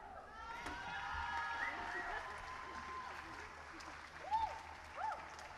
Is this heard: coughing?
no